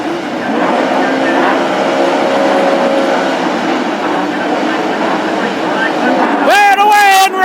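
Classic hot rod race cars roar away from the start at Hednesford's Best in Britain Championship final, a dense continuous engine rumble with one engine's revs climbing sharply near the end, under a commentator's voice.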